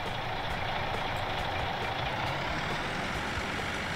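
A steady truck engine in Landwirtschafts-Simulator 19 rumbles continuously at moderate volume, with no speech over it.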